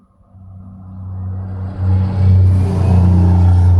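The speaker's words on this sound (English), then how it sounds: "I hear a car coming" A car engine approaches, its low rumble rising steadily and growing louder toward the end, with no voices.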